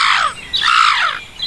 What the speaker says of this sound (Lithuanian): Neatsilaikė varna prieš laputės meilikavimus ir suriko.